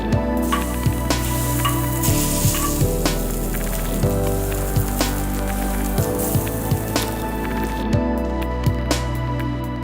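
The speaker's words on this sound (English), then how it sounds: "we will pour it over the masalas so that it gives a nice sizzling flavor" Steady, crackling sizzle of hot ghee poured over spices for dal makhani, loud and continuous with scattered sharp pops, no voices.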